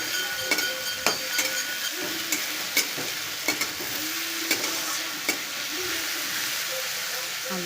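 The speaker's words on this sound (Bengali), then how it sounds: "আলুটা ভাজা হচ্ছে," Potatoes fry in hot white oil, giving a steady close sizzle and hiss, with repeated sharp scrapes and clinks as a spatula stirs them in the pan.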